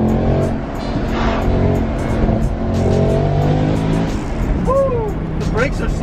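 A Mercedes C63 Black Series on its first drive, its engine droning steadily and loudly from inside the car, with revs rising and falling and a couple of short squeals near the end.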